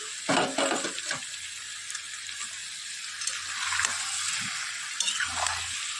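Potatoes stir-fried in a pan with whole garam masala, cumin, bay leaf and dried red chillies give off a steady close sizzle, with scraping stirs at the start and again near the end.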